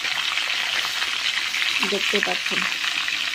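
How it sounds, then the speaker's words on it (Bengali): Fish heads frying in hot oil give off a steady, close, dense sizzle throughout, with a voice speaking briefly over it near the end. "ভাজা শুরু হয়ে গেছে অলরেডি।"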